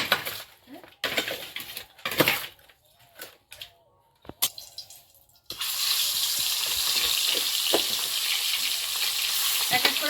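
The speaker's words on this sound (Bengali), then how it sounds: "এদিকে এই মাছ আর এইগুলোতে সব লবণ হলুদ মাখানো এখন ভাজতে হবে" Fish rubbed with salt and turmeric fries in a wok. Scattered clatter and brief knocks come first, then a sudden, loud, steady sizzle takes over and carries on to the end.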